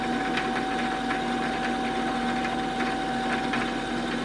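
A Brother LS-1217 sewing machine winding a bobbin gives a steady, continuous motor hum with a high tonal whine and faint rhythmic rattling, close and constant throughout.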